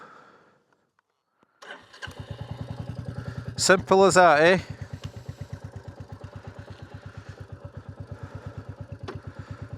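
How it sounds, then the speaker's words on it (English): A Royal Enfield motorcycle engine starts with a crank and loud rev, then settles into a lumpy, throbbing idle up close, with a brief spoken remark. "I just absolutely love the noise of this bike."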